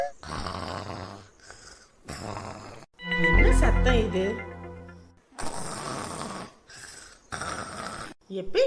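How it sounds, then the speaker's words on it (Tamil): Loud, rough snoring in drawn-out rattling bursts, with a throaty growling stretch in the middle, sounding close by. "நீ கொரட்டை விட்டு தூங்கிட்டு இருக்கியா"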